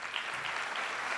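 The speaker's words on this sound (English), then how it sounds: "Let's give George a round of applause." An audience claps to welcome the mayor to the podium at a university event, a short burst of dense, even applause at moderate distance.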